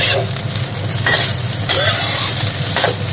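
Char siu golden fried rice being stir-fried in a hot wok with salt and chicken powder, a steady sizzle under repeated scraping and tossing strokes of the spatula, close and fairly loud.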